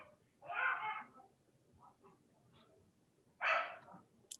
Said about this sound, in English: Someone's dog wants to get involved.